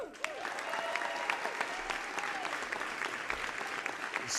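An audience applauding at an evening event at the White House, a dense, sustained round of clapping with a few whoops and cheers rising over it.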